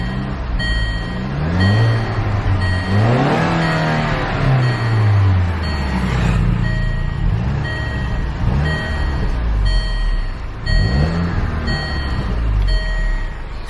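A 2012 Range Rover Evoque Overfinch engine idles loudly and close, then rises in one short rev and settles back, with steady electronic beeping over it and no talking.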